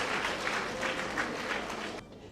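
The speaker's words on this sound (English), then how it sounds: "Please, can we give the government a round of applause?" Applause from a large audience at a bond ceremony in Lagos, a thick, steady wash of clapping at moderate volume that cuts off abruptly near the end.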